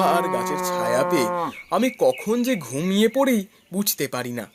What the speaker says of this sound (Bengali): হঠাৎ গরু ডাকে আমার ঘুম ভেঙে যায়।